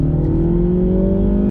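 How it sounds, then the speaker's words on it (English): 2023 Mini Cooper S with a B48 turbocharged engine accelerating hard in sport mode, a loud rising engine drone heard close up and alone, cut off sharply at the end. "with its B48 turbocharged engine, it's no slouch when you put it in sport mode and punch it"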